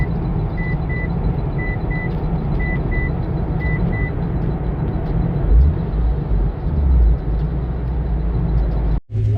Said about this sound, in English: It's a little loud, other cars